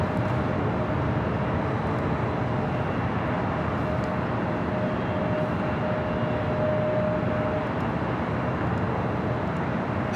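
A 26-year-old Boeing 767-300ER airliner landing at LAX, heard as a steady, loud, broadband jet roar that holds evenly throughout, with a faint whine running through the middle and no talk.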